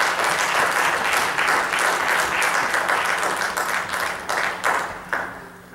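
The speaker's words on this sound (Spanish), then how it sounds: "Un aplauso a Jesucristo." A church congregation applauds for Jesus Christ, a full, steady wash of clapping that thins into scattered claps near the end.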